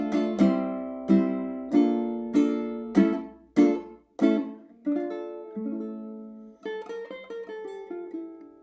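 A ukulele plays flamenco-style strummed chords, a rhythmic series of bright, ringing attacks, then finishes with a descending harmonic minor scale run of single plucked notes, played close and alone.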